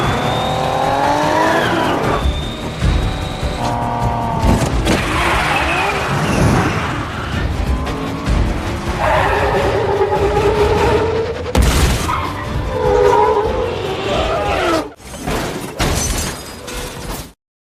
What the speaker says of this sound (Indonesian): Mendengar suara knalpot racing